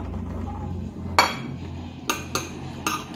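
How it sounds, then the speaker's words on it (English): A butter knife works at a piece of hard toast on a plate, producing a few sharp, close clinks and taps with short gaps between them over a quiet room background. "it's so hard to cut through it"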